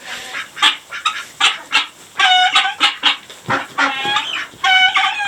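A chicken clucks and squawks repeatedly up close, in loud bursts and short calls with brief gaps between them.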